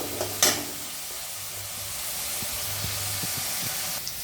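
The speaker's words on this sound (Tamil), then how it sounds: "இப்போ இதை வந்து நல்லா சாட்டே பண்ணுங்க" Boiled mutton sautéing in a pan for hotel-style mutton sukka at home, with a soft steady sizzle and occasional stirring scrapes and clinks, fairly quiet and close, no voices.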